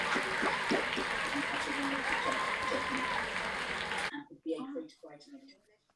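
Graduates at a virtual graduation ceremony clap over unmuted microphones, a thick wash of applause that cuts off abruptly, leaving a few scattered, choppy claps and small room noises.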